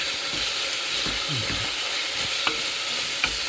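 Chopped onion frying in a pan with white pepper gives a steady close sizzle throughout. A few faint scrapes of stirring come through, and there is no talking.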